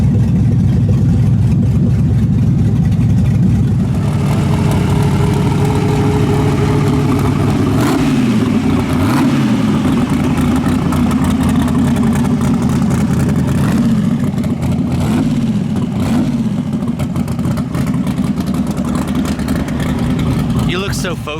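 A dirt-track race car engine with freshly changed spark plugs, still running rough, revs loudly and close, rising and falling through repeated throttle blips while people talk over it.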